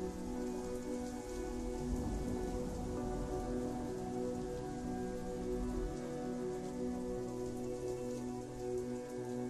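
Heavy downpour of rain drumming steadily on surfaces, a dense, continuous roar that stays loud and even throughout with no voices.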